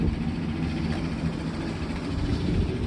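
A Chevrolet Silverado's 5.3 litre V8 with a Borla Atak exhaust rumbles deep and steady at close range, a continuous low idle drone without speech.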